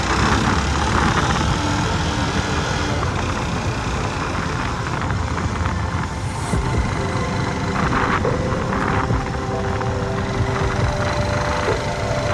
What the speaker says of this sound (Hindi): अब चलते हैं साहिल पे थोड़ी सी बाइक राइड करते हैं